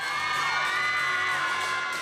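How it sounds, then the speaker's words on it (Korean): A hall crowd cheers and whoops loudly after a Korean dance performance at a school competition, a continuous dense roar of shouting voices with high-pitched screams sustained throughout. "인기 아이돌 그룹의 콘서트장을 부는 듯 함성과 박수가 끊이지 않았습니다."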